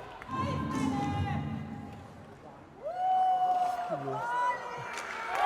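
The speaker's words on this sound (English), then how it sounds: "The crowd is going nuts." Arena crowd at a European ice hockey game roars and cheers after a big save, a dense, loud swell of voices with whoops, while nearby people shout and talk over it.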